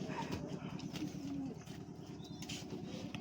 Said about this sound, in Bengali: আমার সমস্ত পায়রাগুলো এখন ছাড়া আছে, সব ভেতরে ঘুরছে।